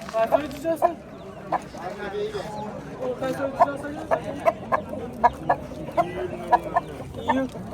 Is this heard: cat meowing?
no